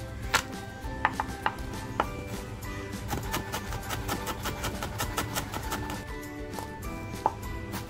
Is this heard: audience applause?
no